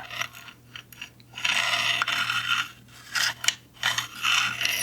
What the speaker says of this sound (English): This is the bolt and the bolt carrier.